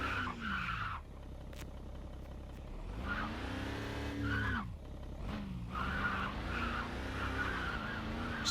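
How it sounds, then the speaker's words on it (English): Tires squealing as a car skids in the Flexic X car crash simulation game, long wavering pitched screeches that rise and fall over a droning engine, loud and close with several distinct slides. "I also like the tire squealing."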